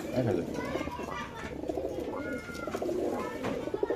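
Pigeons at a pigeon farm coo intermittently under steady conversation between several people nearby.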